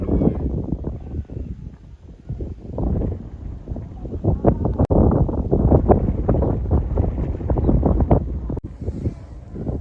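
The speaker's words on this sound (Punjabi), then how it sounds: "ਅੱਜ ਹਵਾ ਨੇ ਵਸ ਕਰਾਈ ਪਈ ਹੈ ਬਹੁਤ ਠਾਰੀ ਚੜ ਰਹੀ ਹੈ" Strong, cold wind buffets across open farm fields where maize is being watered, gusting in uneven surges and roaring directly into the microphone, loud and close with no voices.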